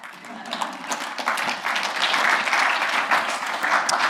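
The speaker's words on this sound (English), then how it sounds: "Round of applause." An audience at a coding conference session breaks into applause that swells from scattered claps into fuller clapping, with some voices mixed in.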